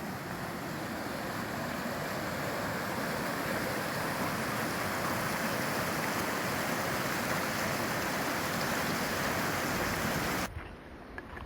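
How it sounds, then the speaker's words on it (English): Small creek waterfall rushes in a steady, broad, moderately loud wash of falling water that cuts off abruptly near the end. "She done found her a waterfall."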